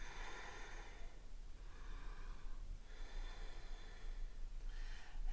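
A person breathes slowly in and out during a hip flexor stretch, several soft, close inhales and exhales with pauses between them.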